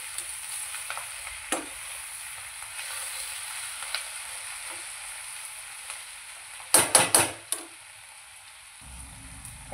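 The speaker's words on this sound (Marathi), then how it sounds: "आता मी हे मिक्स करून घेते." Paneer chilli vegetables stirred in a frying pan: a steady soft sizzle runs throughout, with a few sharp scrapes and a quick cluster of loud spatula knocks near the end, no talking.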